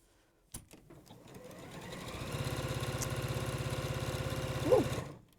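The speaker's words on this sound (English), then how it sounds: "then we'll start sewing this together with the lining" A sewing machine stitches a bag together with its lining, starting after a brief thump and running steadily in a rapid, even, close rhythm for several seconds before stopping.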